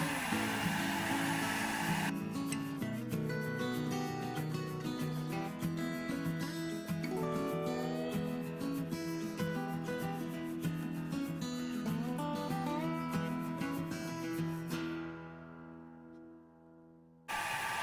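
An Atoms desktop laser engraver running, a steady whirring fan hum with fast stepping motor tones that shift in pitch as the head moves, close and continuous before winding down near the end.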